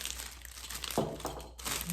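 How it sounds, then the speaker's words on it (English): A cellophane bag crinkles in a brief, close burst of crisp rustling, quiet and alone, as it is handled for a jar gift. "We're going to use one of these handy dandy cellophane bags again."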